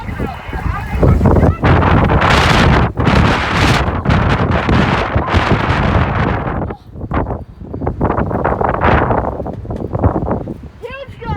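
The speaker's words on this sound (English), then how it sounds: "Huge gust, almost knocked me over." Powerful gusts roar and buffet the microphone during a wind storm, surging loud and close for several seconds, easing briefly, then building again, with a person talking at times.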